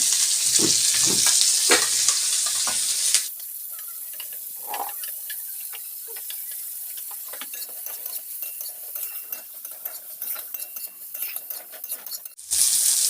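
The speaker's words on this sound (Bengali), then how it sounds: "ডিম কড়াইগুলো আর গাজরগুলো দিয়ে দেব।" Cauliflower, carrots and other vegetables fry in ghee in a wok for a vegetable dal, with loud sizzling up front that drops to a quieter crackle while a spatula stirs and scrapes, then swells again at the end.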